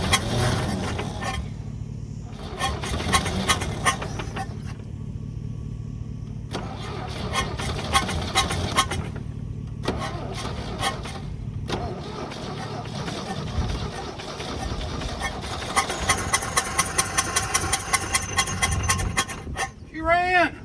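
A rough 1969 Chevrolet C30 truck engine with vacuum leaks runs steadily with a low rumble, some clattering and hissing, while people talk over it close by.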